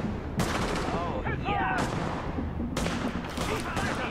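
Gunfire from a firefight in Tom Clancy's The Division crackles in dense, repeated bursts with sharp reports, loud and close, while a voice talks faintly underneath.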